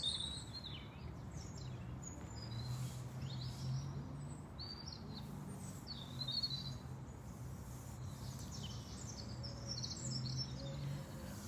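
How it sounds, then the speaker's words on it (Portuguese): Several birds sing and chirp in short, high, scattered calls over a steady, soft background hiss, fairly distant and continuous, with no voices. "Uma pausa para o cantarolar dos pássaros."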